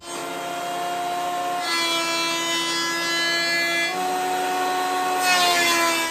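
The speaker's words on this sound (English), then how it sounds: "set up my desktop jointer. I'm just going to joint the edges of these" A benchtop desktop jointer planes the edges of wooden boards in a steady high whine with a grinding cut, the pitch shifting between passes, loud and close.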